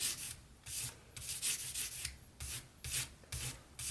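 A utility knife blade is polished on a 2000 grit stone, giving rhythmic, hissy rubbing strokes, about eight back-and-forth passes at a steady pace, close and fairly quiet with no talk.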